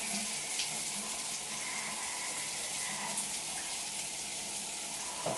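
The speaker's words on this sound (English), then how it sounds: "you're also going to rinse with warm water also" Warm tap water runs steadily while rinsing hair on wash day during detangling, a continuous splashing hiss of faucet flow that stays close and even throughout, with no speech.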